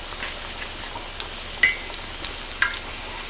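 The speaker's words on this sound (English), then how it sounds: "I'm just going to carefully lay these in the skillet full of oil" Egg rolls sizzling as they fry in a skillet full of oil, a steady close crackle with a few sharper pops spread through.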